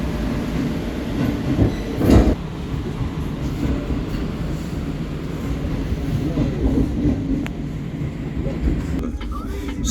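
Inside a train on the Lagos–Ibadan railway pulling into Omi-Adio station: steady rolling rumble and rattling carriages, with a heavy thump early on and faint clattering as it slows.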